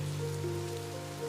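Rain falls steadily as a soft, continuous patter in a quiet indoor-sounding setting, with a low steady hum beneath it and no voices.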